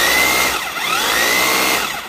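A cordless rotary hammer drill runs close and loud, giving a steady motorized whine with a high tonal ring and a slight dip midway, alone without speech.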